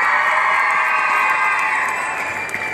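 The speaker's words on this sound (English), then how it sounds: "round of applause for Marlisa, everybody" A television talent show crowd applauds and cheers for the contestant Marlisa, a loud, sustained roar of clapping and whoops that fills the space and holds steady, easing slightly near the end.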